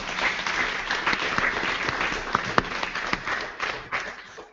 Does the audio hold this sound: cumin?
no